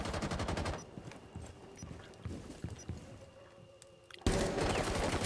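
Gunfire in the Rainbow Six Siege shooter game, rapid automatic bursts at the start, scattered single shots in a quieter middle stretch, then another loud dense burst at the end.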